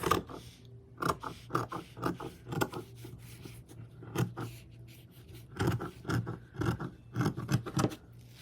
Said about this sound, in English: So I'm just going to cut the top right off.